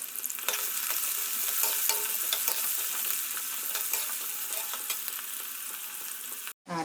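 Small onions sizzling in groundnut and sesame oil with mustard seeds and cumin, a steady close frying hiss with occasional stirring scrapes, no voices.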